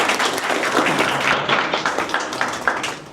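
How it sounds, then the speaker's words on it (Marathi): A room of people clap for themselves at a training celebration gathering, a loud, dense burst of many hands with individual claps standing out, continuing throughout and thinning a little toward the close. "सर्वांनी स्वतःचं एकदा अभिनंदन करा टाळ्या वाजवून."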